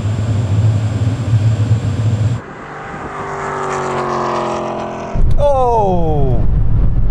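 BMW E39 M5 and Alpina B10 V8 cars race in a drag contest, engines roaring loud then fading, followed by a rising gear-shifting whine as one accelerates past close by.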